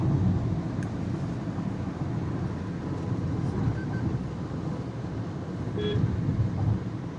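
Broadband road and wind roar from a Grand Vitara Hybrid cruising at about 117–118 km/h on the highway, a steady loud interior drone with no distinct events.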